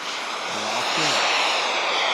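Jet turbine engine mounted on a Kobuz aerobatic glider, a loud, continuous high-pitched whine and roar, close and steady, with a brief low wavering tone partway through and no talk.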